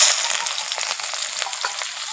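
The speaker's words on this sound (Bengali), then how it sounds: "পেঁয়াজটাকে একটু ভেজে নেবো" Chopped onion frying in hot oil with whole cumin seeds while cooking kofta curry, a steady close hiss of sizzling with soft scrapes of stirring, continuous for a couple of seconds.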